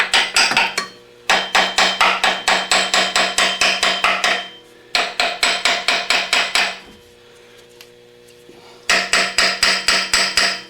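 Rapid hammer taps on a stuck water pump in a 2007 Mercedes five-cylinder diesel, loud close metallic strikes in three quick bursts separated by brief pauses.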